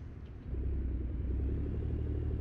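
Low, steady engine rumble of a heavy truck in American Truck Simulator, a rig driving in Alaska, building after half a second and then holding a constant droning tone with no voices.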